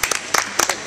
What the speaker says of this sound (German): Könnt ihr einmal klatschen für den Andi, der so toll Gitarre spielt